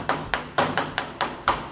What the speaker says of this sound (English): Pop hubcap on and just a little tap down.